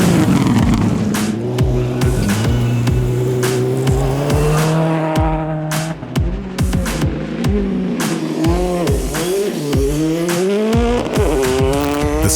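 Rally cars at Rallye Défi in a quarry slide over slippery mud and gravel, loud engines revving hard and shifting gears with tire squeal and skidding nearby, and no voices.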